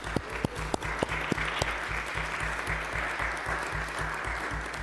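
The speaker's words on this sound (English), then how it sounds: "I think we'd all give them a well-deserved round of applause" Committee members give a round of applause in a New York City Council finance committee room. A few sharp, separate claps open into a quieter, steady patter of applause over a low, pulsing room hum.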